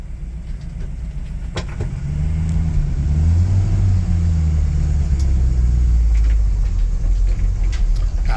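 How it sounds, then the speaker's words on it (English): A 1959 GMC shortbed pickup truck engine turns over on the starter and settles into a loud, low rumbling idle that stays steady and close. "Touch that key and she fires right up."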